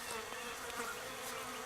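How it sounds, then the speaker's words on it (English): German black bees buzz steadily and close by in a cutout colony, a continuous droning hum with slight shifts in pitch and no voices. "those German black bees acting like them"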